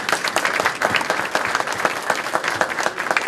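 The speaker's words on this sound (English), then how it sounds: "So can we give them a round of applause, please?" Audience applause at an outdoor Veterans Day ceremony, honoring young volunteers from a Key Club and a Junior ROTC unit: dense, steady clapping from a sizable crowd that holds strong for the whole stretch, with no talk over it.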